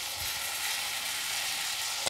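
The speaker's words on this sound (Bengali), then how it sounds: "পেঁয়াজ টমেটো মশলা ভাজা হয়ে গেছে" Onion, tomato and spices fry in a pan with a steady, close sizzle, ending in a brief sharp clack.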